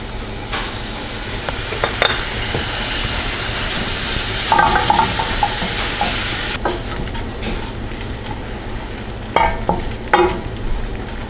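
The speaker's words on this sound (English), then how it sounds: "I'm going to be adding some of this flour" Flour sizzles and fries in hot steak fat with browned bits in a pan, a loud, steady crackling hiss broken by sharp scraping stirs from a utensil.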